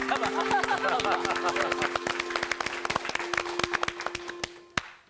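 A lecture-hall audience at a Bible study session claps in a brisk, crowded burst that thins into scattered individual claps and fades out, with a sustained tone and some voices underneath.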